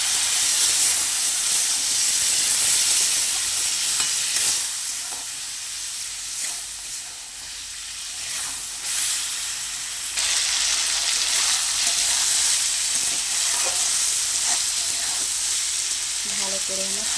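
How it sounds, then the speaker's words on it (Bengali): Ground cumin, coriander and chili powder stir-fry in a pan with a splash of water for a vegetarian pumpkin and Malabar spinach dish, a loud hissing sizzle with steam that dips mid-way, then surges back, with occasional stirring scrapes. "সামান্য পরিমাণে জল দিয়ে ভালো করে কষিয়ে নেব।"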